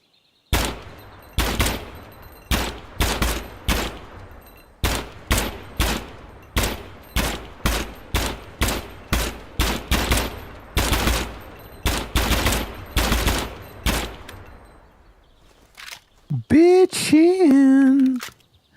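An AK rifle in the Gunsmith Simulator video game fires semi-automatic, roughly two dozen loud, sharp shots in uneven bursts with brief pauses between them, followed near the end by a few lingering metallic mechanical tones.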